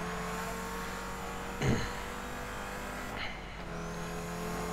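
Audi engine revving in Need for Speed Most Wanted (2012), a steady racing-game car drone with a brief louder burst partway through, heard alone without talk.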